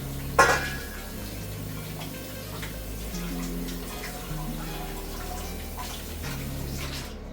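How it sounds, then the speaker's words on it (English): A small bowl being rinsed under running water, with a sharp clink of dishware at the start followed by a steady, fairly quiet stream of water. "Let me get a small bowl. And we're going to rinse this out."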